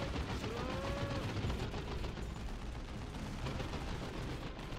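Gunfire from shooter units firing on Ogryns in the strategy game Dawn of War 2: Retribution, a dense continuous rattle of shots and booms over a loud battle din, with no talking.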